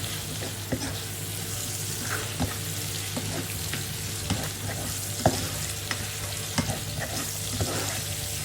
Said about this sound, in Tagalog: igisa lang natin siya sa bawang, sibuyas, at saka luya